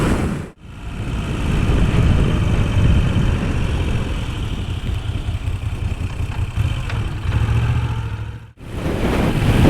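A Moto Guzzi V7 III Racer cafe racer motorcycle engine drones steadily with wind rush for about eight seconds, with brief drops at the start and end.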